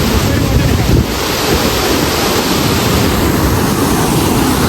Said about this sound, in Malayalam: ചപ്പാത്ത് വെള്ളച്ചാട്ടം കാണാൻ വന്നേ